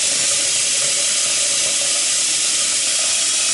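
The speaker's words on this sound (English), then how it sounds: "We're going to be using the tap in this case." Tap water pours steadily into the removable reservoir of a Keurig K-Cup Platinum coffee maker, a constant close hiss of filling water with no talking.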